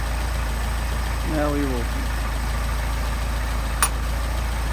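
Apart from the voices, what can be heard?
Mercedes 190SL engine idling on Solex carburetors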